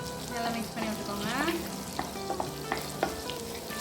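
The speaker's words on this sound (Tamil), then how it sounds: "நல்லா மிக்ஸ் பண்ணி விட்டுக்கோங்க." Garlic fries in melted butter while being stirred for a creamy Japan chicken recipe, a soft steady sizzle punctuated by the close scrape and tap of a spoon against the pan.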